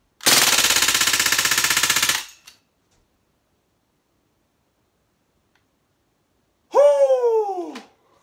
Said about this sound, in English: Let's just see how many BBs we can get through on one mag.